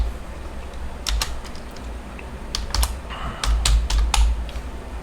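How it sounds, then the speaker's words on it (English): Keystrokes clatter steadily on a computer keyboard as Python class code is typed out, bursts of clicks coming in quick irregular runs, close and moderately loud with no talking. "I have to type all this. This time we'll just type it out again."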